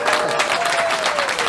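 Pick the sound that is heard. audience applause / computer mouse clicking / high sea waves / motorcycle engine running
audience applause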